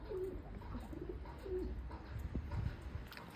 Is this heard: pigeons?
yes